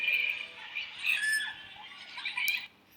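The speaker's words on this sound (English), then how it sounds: "You hear people screaming." Several people scream in shrill, high-pitched bursts after flames flare up into a person's face. The squeals overlap and rise and fall across about three seconds at moderate, slightly distant loudness, then stop abruptly near the end.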